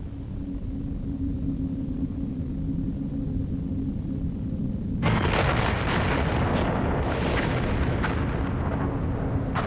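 A quiet low hum gives way abruptly to a loud, broad roaring blast that rumbles on with crackling surges, a dramatic explosion effect standing in for exploding stars.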